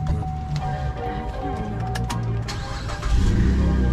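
A 2007 GMC Acadia engine cranks and catches, a rough churning rumble that swells louder near the end as it fires up, close by.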